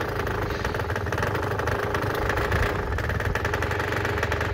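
A Peugeot JetForce scooter engine idles steadily while warming up, a continuous close, even putter with a slightly rough, knocking edge and no voices.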